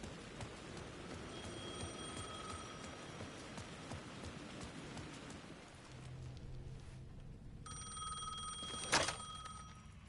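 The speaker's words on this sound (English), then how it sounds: "The phone was ringing again." A telephone rings in the video game Alan Wake 2, with repeated bell-like trills at the start and again near the end, set against a steady rainy ambience and a brief louder thump.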